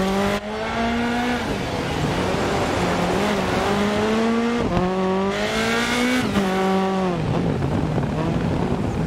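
A Polo R5 rally car in DiRT Rally 2.0 on a Welsh rally stage, its engine revving hard and rising through gears with sharp shifts and drops, loud and continuous with tyre noise underneath.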